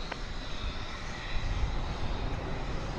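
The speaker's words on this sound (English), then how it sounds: "American Eagle Flight 3454, and they're taking off." An American Eagle regional airliner taking off at Dallas-Fort Worth airport makes a continuous, even engine rumble heard from some distance, steady throughout and without speech.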